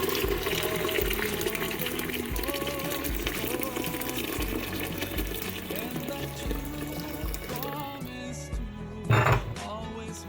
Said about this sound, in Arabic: تو كهو نصبوا عليه الماء السخون نتاعنا.